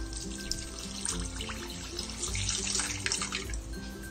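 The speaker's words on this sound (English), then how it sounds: "I already measured my water, so I will just pour it." Measured water poured into a pot while making Filipino pichi-pichi, a soft, continuous trickle and splash that swells slightly midway, heard quietly and close up with a faint background hum.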